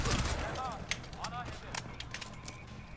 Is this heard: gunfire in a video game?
yes